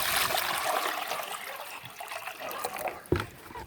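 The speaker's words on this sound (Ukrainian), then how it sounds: "Поміняємо свіжу водичку" Fresh water is poured for chicks, giving a close, continuous trickle and splash that thins out toward the end, followed by a short knock.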